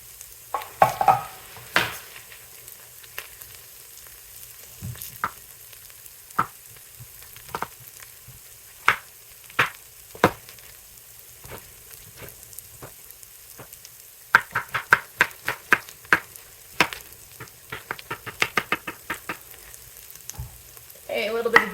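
Garlic and vegetables fry in a pan with a quiet steady sizzle, broken by clusters of sharp clacks and scrapes as a utensil stirs them, close-up with no talking.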